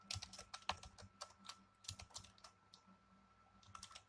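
Typing on a computer keyboard while writing a Python program, a steady stream of light, close key clicks in uneven bursts with brief pauses, no voices.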